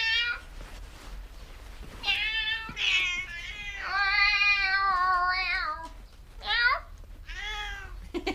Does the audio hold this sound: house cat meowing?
yes